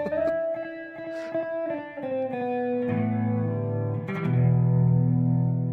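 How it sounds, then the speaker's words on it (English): Electric guitar drenched in loud, overdriving reverb, notes blooming and washing into a thick, distorted tail. "I like how the reverb's overdriving."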